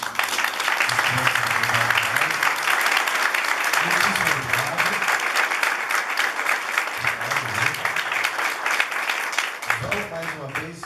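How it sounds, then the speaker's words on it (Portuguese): An audience at a community event applauds loudly and continuously, a dense sustained clatter of clapping with a voice talking over it in several bursts. "gostaria que vocês aplaudissem mais uma vez"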